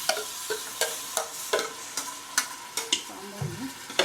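Masala fried in hot sunflower oil for a sambar is stirred with a spoon, producing a soft, continuous sizzle broken by regular scraping clinks, about two or three per second, close and fairly quiet.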